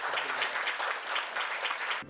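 Audience applause for presenting doctors at a 2019 Busan startup challenge event, a dense, steady wash of many hands clapping at moderate volume that cuts off abruptly near the end.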